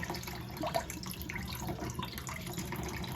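Water pours and splashes steadily from a pot of rice being drained in a kitchen, a continuous close rushing trickle with no talk.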